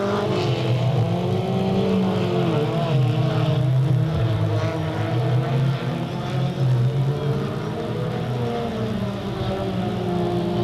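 Race cars roar around the oval at Delta Speedway in 1998, a steady loud engine drone with shifting pitch as the field laps continuously, no breaks.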